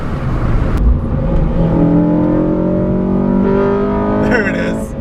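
A Honda Civic Si accelerating hard as VTEC engages, engine note climbing steadily in pitch over several seconds, loud and close from inside the car, with a voice talking over it.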